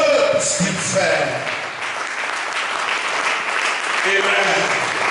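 A church congregation claps at an evening service, a sustained, dense applause filling the room, with voices calling out over it.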